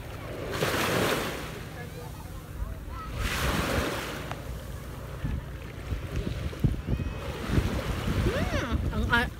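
Strong ocean waves crash and wash on a beach, with two loud surges followed by rushing foam, heavy wind buffeting the microphone, and a voice talking over it.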